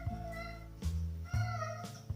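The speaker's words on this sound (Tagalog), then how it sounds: "pati yung pusa ko, naamoy niya yung niluto ko. Alam niyang mabango, nanghihingi na siya." A cat meows in the kitchen, begging for food after smelling cooked chicken cordon bleu, giving a few drawn-out, fairly loud calls spaced about half a second apart, with no talk over them.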